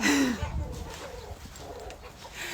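A rooster's crow rings out at the start, followed by scattered clucks and faint bird calls in an open outdoor space at an ostrich farm in Sumy, Ukraine, with peacocks nearby.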